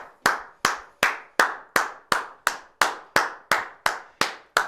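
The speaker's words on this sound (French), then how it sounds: "On peut les applaudir les enfants comme hier." A group of children claps in a steady unison rhythm, about a dozen sharp, loud, evenly spaced claps with no talking.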